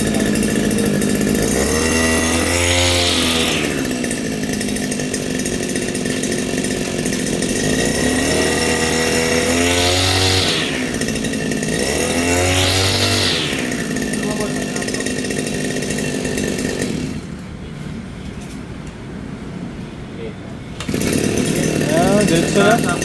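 A brand-new Kawasaki 2-stroke gas farm grass mower engine runs loud and buzzy up close, revving up and dropping back repeatedly before briefly cutting out and restarting, with people talking over it.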